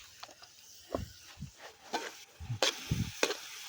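Soy sauce hits sizzling adobo in a pan, giving soft spitting and frying crackle broken by scattered stirring knocks and scrapes, close and fairly quiet.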